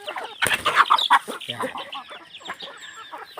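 Chickens cluck repeatedly at close range around a rural countryside yard at feeding time, busy overlapping calls in bursts, with a short spoken word mixed in.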